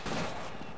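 Gunfire in the game Half-Life comes as a short, dense burst of rapid shots, loud and close, lasting under a second with no voices.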